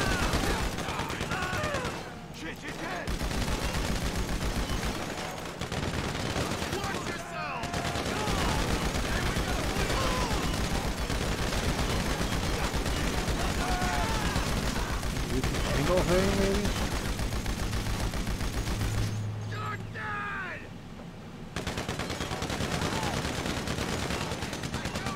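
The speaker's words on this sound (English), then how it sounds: "Because I'm shooting into steel." GTA 5 Online gunfire striking steel, a long run of rapid automatic shots with sharp metallic impacts and brief pauses, dense and continuous beneath occasional talking.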